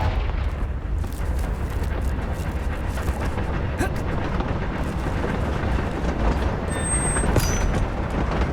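Confringo blasting spell explosion in Hogwarts Legacy, a dense booming rumble that stays loud and continuous with a bright crackle near the end.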